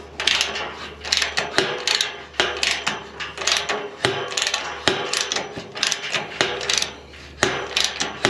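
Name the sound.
ratchet wrench being turned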